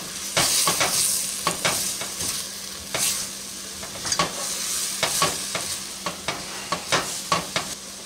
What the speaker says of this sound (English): Stir this a little more.